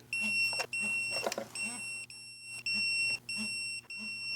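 Series of sharp electronic beeps from a torque wrench on a Nissan Skyline R32, about seven short tones in a steady rhythm, close and clear over a faint low engine hum.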